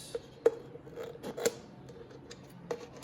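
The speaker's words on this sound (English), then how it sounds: "Now if you don't like the fact that it's a bit rough, all right, what we can do, we can just trim this up." Scissors trim the rough plastic edge of a homemade bottle rocket in a few short, close snips, separated by brief pauses in a quiet room.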